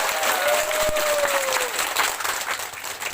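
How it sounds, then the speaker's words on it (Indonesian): Applause rings out for a regent candidate at an evening political event, a steady crowd clapping at full volume throughout, with a brief whistle-like tone gliding briefly above it. "Berikan tepuk tangan yang seluas-luasnya."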